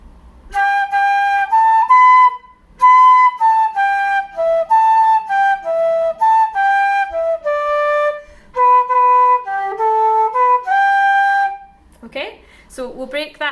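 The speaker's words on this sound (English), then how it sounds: "So if I play the first line of the B part, it sounds like this, nice and slow." A slow flute line, the first phrase of the B part of the Irish tune The Beautiful Goldfinch, plays distinct sustained notes in a steady phrase, close and clear, with a brief breathy sound at the end.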